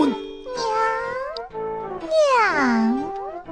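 A cat gives several long, drawn-out meows with rising and falling pitch, close and clear, with short pauses between calls.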